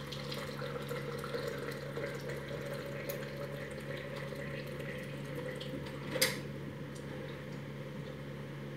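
Water runs steadily into a cooking pot for boiling taro, with a low continuous pouring rumble and a faint clink near the end, no talking.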